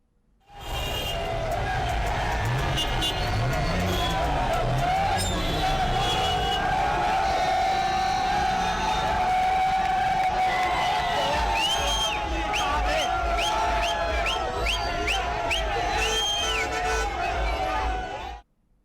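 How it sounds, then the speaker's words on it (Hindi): A large crowd of cricket fans celebrates a win over Pakistan in Jaistambh Chowk, a town square, on a rainy night, producing a loud continuous roar of chanting, cheering and whoops, with traffic noise and vehicle horns mixed in. "नारे लगाते क्रिकेट प्रशंसकों की भीड़ जयस्तंभ चौक पर इकट्ठा हो गई।"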